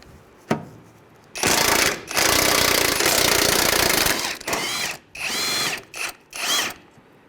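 Power tool, likely an impact gun, buzzing loose the strut top nuts on a 2003-2011 Honda Element, with several loud bursts of varying length, the first long and sustained and later ones shorter, after a single sharp knock.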